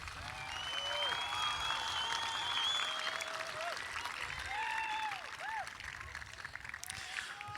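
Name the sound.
applause for graduates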